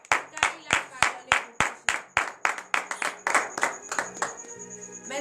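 A church congregation at a morning prayer service claps together in praise, the loud, sharp claps falling in a steady rhythm of about three per second, with singing or voices underneath.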